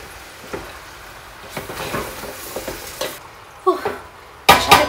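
Mutton curry frying over a medium flame, with a steady sizzle and scattered scraping stirs of a spatula against the pot, ending in a louder burst of clatter.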